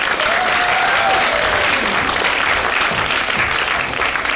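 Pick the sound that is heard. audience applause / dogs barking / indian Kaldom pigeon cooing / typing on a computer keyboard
audience applause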